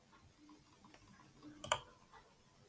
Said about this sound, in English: I'm clicking on save button.